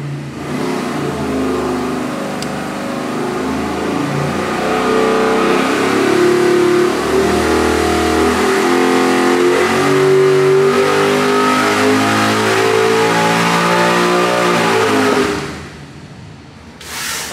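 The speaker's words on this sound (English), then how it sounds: "second pull with the 85 with 27 degrees of timing in the engine" A 441-cubic-inch LS3 V8 with 12.0:1 compression and 27 degrees of timing runs a full dyno pull, loud and close with a steadily rising rev and harmonic whine for about fifteen seconds before backing off sharply.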